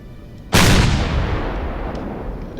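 A rocket weapon in the space survival game Empyriom: Galactic Survival fires with a single sudden loud boom, followed by a long rumbling decay that fades slowly.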